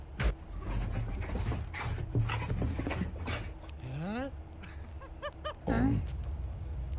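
A dog mimicking a dancer lets out rising, sliding whines and yowls in a few short bursts, with people talking and laughing around it.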